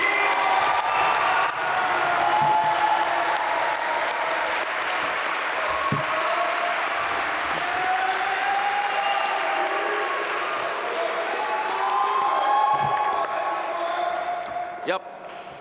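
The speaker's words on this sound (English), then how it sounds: "Please give a warm round of applause to Junwei Fu, your 2021 MQM class speaker." Warm applause from a graduation audience welcoming the 2021 Master of Quantitative Management class speaker, a sustained wash of clapping with a few scattered cheers and faint voices beneath, tapering off at the end.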